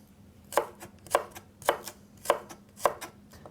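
A kitchen knife chops celery into batonnets on a cutting board, five crisp, evenly spaced strikes close up, with quiet gaps between them.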